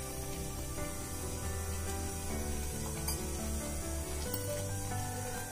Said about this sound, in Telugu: సిమ్లో పెట్టుకుని కొంచెం 2 ఉడుకులు ఉడకనివ్వాలండి.